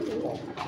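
A native pigeon in a home loft where birds are nesting and hatching chicks gives a brief, close, soft cooing call that lasts under a second.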